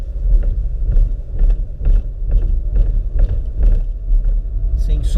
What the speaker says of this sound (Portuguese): Agora vamos alinhar o carro aqui com os tachões e ver como é que ele se comporta nesses obstáculos